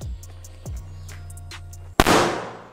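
A Bella Bomber firecracker explodes with one sharp, loud bang while lodged in a carpet, its blast decaying in a noisy hiss after a stretch of quieter background sounds.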